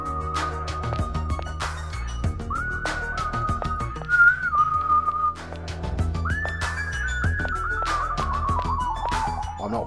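A whistled tune in the video game Danganronpa 2: Goodbye Despair, a clear melodic whistle with sustained and sliding notes, loud over soft background music, with no talking.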